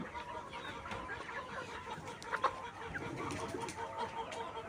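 Layer pullet hens on a poultry farm cluck and chatter close by, with several overlapping calls, a couple of louder squawks midway and a brief flutter of wings.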